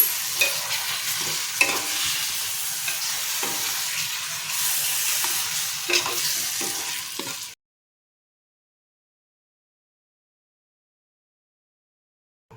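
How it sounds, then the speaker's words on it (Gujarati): A spoon stirs a Kathiyawadi whole-onion curry with garam masala and jaggery in a hot pan, making close scraping strokes over a sizzle for about seven seconds before it cuts to silence. "એ આપણે અંદર એડ કરી દઈશું અને બધું જ આપણે મિક્સ કરી લઈશું"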